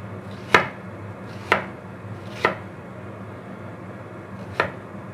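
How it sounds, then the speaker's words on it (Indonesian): A knife chops leeks on a board for salmon-head miso soup, with four sharp, close strikes at uneven intervals over a quiet background and no voices. "Saya mau potong-potong dulu bawang prenya ya."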